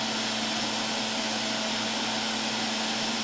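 An electric juicer runs while juicing ginger, giving a loud, steady motor whine with a constant hum that fills the moment with no voice.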